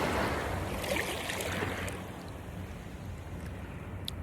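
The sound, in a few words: sea water while wading knee-deep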